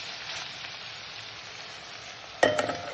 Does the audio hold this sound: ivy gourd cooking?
yes